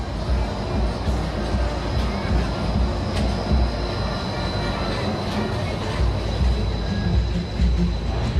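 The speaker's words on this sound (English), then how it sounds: "there goes the monorail." A Disneyland monorail rolls past outdoors with a steady, loud rumbling roar and faint rhythmic clatter that holds evenly throughout, with a few light higher clicks over the top.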